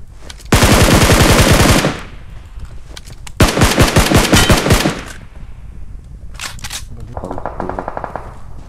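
Automatic gunfire in the mobile game PUBG Mobile, two long loud bursts of rapid shots followed by shorter, fainter bursts, with a player talking between them.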